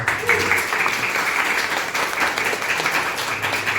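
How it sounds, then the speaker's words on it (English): A crowd applauds steadily, a dense wash of many hands clapping at once, sustained and fairly loud throughout. "Jonathan Tan, a round of applause."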